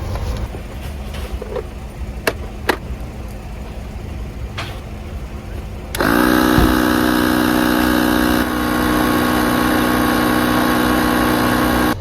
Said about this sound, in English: Not only is my tire dirty, but it's also a little flat, so I gotta pump it up for a bit.